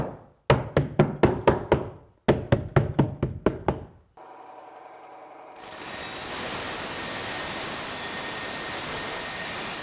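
A saw trims about an eighth of an inch off the top of a ceramic tile for a last row. A run of sharp knocks gives way to a steady, loud, broadband roar of cutting.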